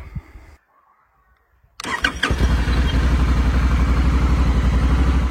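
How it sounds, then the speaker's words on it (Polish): A motorcycle engine cranks briefly and catches after a short press of the starter button, then settles into a loud, steady, rapidly pulsing idle close by, with no talking. "naciskamy go tylko krótko i motocykl sam przeprowadza rozruch"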